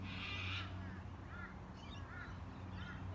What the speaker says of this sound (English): I can still hear those cockatoos.